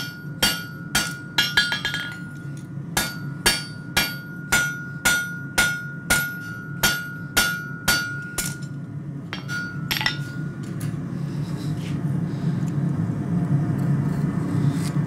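A hammer strikes hot iron on an anvil in a steady rhythm of ringing metallic blows, about a dozen in a row, before the clanging gives way to a continuous rumbling hum.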